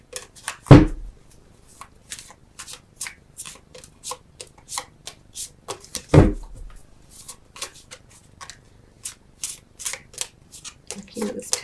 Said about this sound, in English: let me get 3 cards though for you